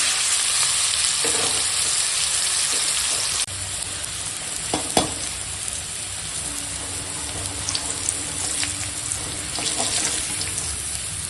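Salted, turmeric-coated pumpkin slices fry in hot oil with a steady, loud sizzle and crackle that runs throughout, broken by a few clinks of a utensil against the pan and no talking.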